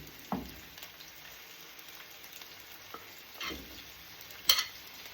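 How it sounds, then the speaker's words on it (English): Tomatoes and sweet peppers frying in a pan while cooking Jamaican salt-fish and cabbage, a soft sizzle under occasional stirring scrapes and utensil clinks. "Let's bring up the flame a little more. We can put our tomatoes in."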